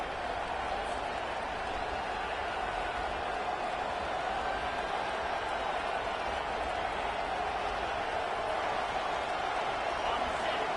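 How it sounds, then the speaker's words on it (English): A stadium crowd at a college football game roars steadily behind the defense on third down, a dense, loud wash of cheering that holds without a break throughout. "Decibels rising as the crowd gets behind this defense on 3rd down"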